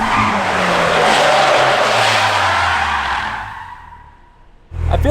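A four-cylinder Ford Mustang drifting with a big-angle flick: a loud, sustained tire squeal with engine roar that fades over a few seconds, then a fresh burst of noise starts abruptly at the end.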